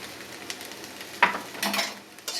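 Potatoes and egg fry in a pan, giving a soft sizzle with scattered scrapes and clinks as they are stirred, the louder stirring strokes coming in the second half.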